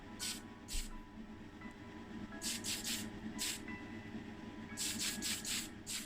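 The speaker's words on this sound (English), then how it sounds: "I'm just going to grab my Tamiya Fine Surface Primer in white" Tamiya Fine Surface Primer in white sprayed from a can onto a restored Matchbox Dinkum Dumper model, several short hissing bursts in quick succession, two early and a cluster later, fairly quiet and close.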